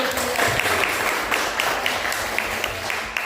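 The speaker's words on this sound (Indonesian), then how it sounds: "Tepuk tangan dulu." A classroom of students applauds together, a steady burst of clapping from a group in a room lasting the whole few seconds.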